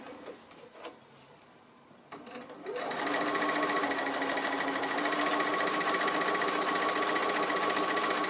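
After a couple of seconds of quiet fabric handling, a sewing machine doing free-motion appliqué on a quilt starts up and runs at a loud, steady, rapid stitching whir to the end.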